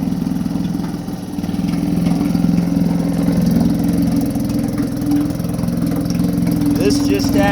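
A 1959 Elgin 2 hp outboard motor runs steadily in a test tank, its close, loud, even putter holding a constant low drone without pause.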